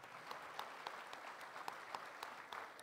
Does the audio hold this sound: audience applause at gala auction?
yes